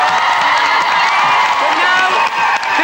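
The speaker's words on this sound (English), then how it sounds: "I think everyone that sent in photographs deserves a big cheer" A TV studio audience on a live UK Saturday-morning show cheers, whoops and claps loudly and without a pause, with young voices shouting in the crowd.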